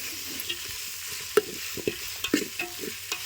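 Amaranth stalks frying in hot oil, a steady broadband sizzle with a few sharp stirring clinks and pops, close and alone without voices.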